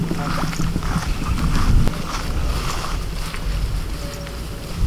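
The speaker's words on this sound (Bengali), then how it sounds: "এই দেখুন এইখান দিয়ে জল যাচ্ছে" Water running through a channel between paddy fields on a sunny day, a steady broadband rush and gurgle close by, with no talk over it.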